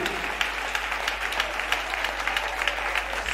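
A congregation applauds steadily during a French-language church service, dense clapping from many hands sustained throughout with no pauses.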